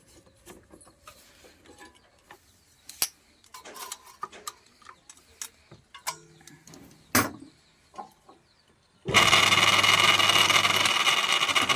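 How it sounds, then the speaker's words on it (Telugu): A button-making machine sits quiet apart from scattered clicks and taps, then its motor switches on and runs with a loud, steady, close-up whirring roar to the end. "ఇప్పుడు మోటార్ ఆన్ చేసి చూద్దాం."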